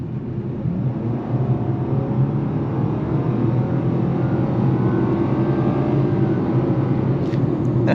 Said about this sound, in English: we will put this car into sport mode here, and we'll get in a little acceleration clip